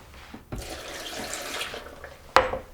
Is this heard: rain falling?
no